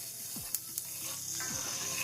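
Curry seasonings with thyme cooking down in a pot for a vegan curry, a steady low sizzle with a couple of light taps and a stir scraping through.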